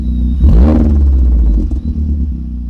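An Audi TT with a custom valved quad exhaust, valves open, revs once sharply to a loud rising roar, then settles back to a deep burbling idle, close and alone.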